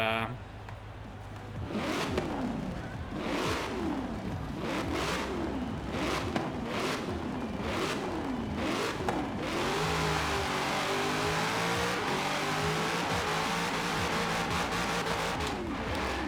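A Cadillac CTS-V engine in the Forza Horizon 4 driving game revs repeatedly in rising and falling sweeps, then settles into a sustained loud drone as the car pulls away, with someone talking over it.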